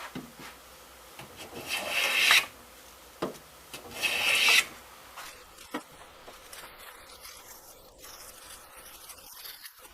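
A cheap Stanley-style hand plane shaves pine in two close, rasping strokes about two seconds apart, followed by quieter handling noises.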